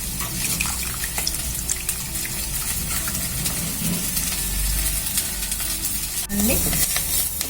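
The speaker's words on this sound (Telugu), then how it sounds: "పోపు వేగింది" Tempering spices for ulavacharu sizzle steadily in hot oil in a pan. The frying hiss runs continuously, broken by a few clinks and a louder splash near the end.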